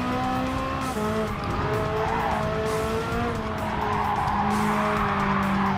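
In the racing game GT7, a Ferrari F8 Tributo loses rear grip at Autodrome Lago Maggiore, its high engine note blending with sustained tire squeal and skidding, loud and continuous.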